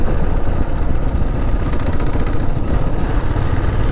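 A vehicle in second gear at about 30 to 35 km/h on a rutted, corrugated gravel road in a Namibian game park, with a loud continuous engine drone and rumbling road noise throughout, close and steady.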